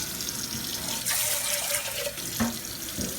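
Rice being rinsed under a running kitchen tap, a steady close stream of water with splashing and brief sloshing shifts as the grains are stirred.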